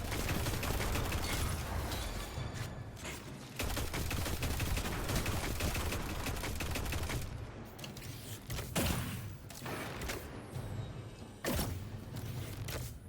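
Sustained automatic rifle fire from an auto rifle in the video game Destiny, during a solo Grandmaster Nightfall in the Devils' Lair, loud dense bursts running nearly continuously with brief pauses and a few sharper impacts.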